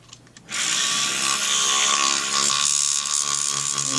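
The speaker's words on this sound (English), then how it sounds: "I'm going to turn the Dremel way down for speed." A Dremel rotary tool switches on and runs at low speed on a Husqvarna 372 chainsaw part, a steady high whine close by and alone.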